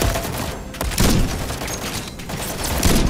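Call of Duty: Modern Warfare 3 gunfire: sustained heavy shooting with overlapping shots and booming impacts, loud and close, forming a dense, nearly continuous barrage.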